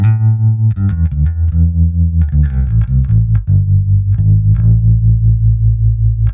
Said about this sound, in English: now you can really hear the pulse effect of the tremolo happening